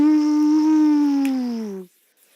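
A human voice imitates whale song with one long, sustained tonal moan that glides slowly downward before cutting off into silence.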